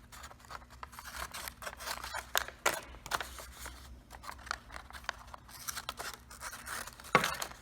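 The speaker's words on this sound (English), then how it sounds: "So these two solid lines on this we'll have to cut in order to complete our box." Scissors cutting paper along solid lines for an origami gift box, quiet irregular snips and rustles close by, with a sharper crinkle near the end.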